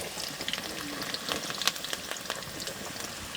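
Chopped onions frying in a pan for a chicken and rugda wild mushroom dish, a steady close crackling sizzle with scattered sharper pops and no talking.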